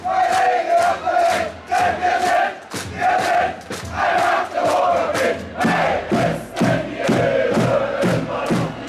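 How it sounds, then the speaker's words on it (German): SC Magdeburg handball fans chant loudly in an indoor arena against KIF Kolding, a massed crowd voice rising and falling in a steady rhythmic pattern with sharp clapping beats. "In der Halle waren nun lautstark die Fangesänge der Magdeburger zu hören."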